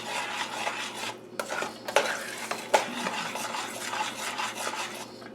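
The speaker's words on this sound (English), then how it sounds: "Give that a quick stir." Roasted butternut squash soup with nutmeg is stirred in a pot, brisk scraping strokes and metallic clinks of the spoon against the sides over a light simmer, close and fairly loud.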